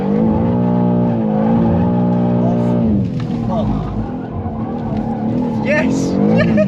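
A 600hp G87 BMW M2 drifts a figure of eight at Santapod, its engine revving loudly and then easing as tires squeal, with people talking over the noise.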